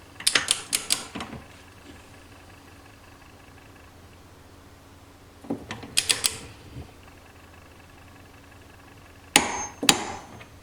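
A torque wrench with a 19 mm socket tightening a balancing shaft nut to 60 Nm on a moped engine: three short bursts of close ratcheting clicks separated by quiet pauses, the last ending in sharp clicks.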